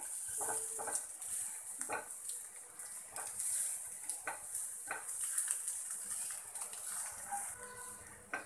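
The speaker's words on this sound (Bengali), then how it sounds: "ডিমটাকে দিয়ে আমি এটাকে নাড়াচাড়া করে নিচ্ছি তো এটাকে একটু ভালোভাবে ভেজে নিতে হবে" Soft metallic scraping and clinks of an egg being stirred and fried in a pan, with repeated utensil taps against the pan and a faint sizzle underneath, fairly quiet.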